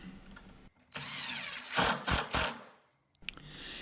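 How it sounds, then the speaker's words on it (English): A power drill drives screws down through plywood into cabinet bracing: several short, loud whirring bursts, stopping and starting, with a quiet workshop gap after. "I'm sending some screws down through the top to kind of help hold those diagonal races in place as well"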